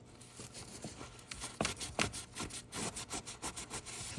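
Rapid scrubbing of the CVT filter housing mating surfaces on a Honda CR-V, a close, steady back-and-forth rasping with repeated short strokes and no talking.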